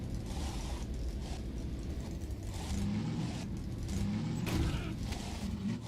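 Car engine in the video game Half-Life 2: Downfall, a steady low rumbling drone with rattling, mechanical clatter and occasional creaks as the vehicle drives along, fairly loud and continuous.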